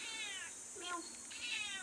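A pet cat meows a few times in soft, drawn-out calls, faint against a steady background hiss.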